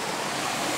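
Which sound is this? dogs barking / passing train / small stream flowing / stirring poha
small stream flowing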